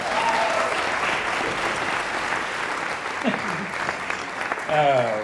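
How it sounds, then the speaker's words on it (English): A steady wash of applause plays as a sound effect during an interview, holding evenly throughout, while a voice briefly speaks over it near the end. "Play some applause."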